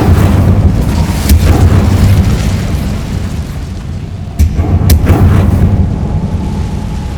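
An Incendio fire spell cast in Hogwarts Legacy, heard as a loud, continuous roaring blast of flame with heavy low rumble and several sharp bursts cutting through it.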